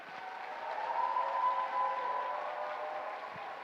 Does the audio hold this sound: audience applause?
yes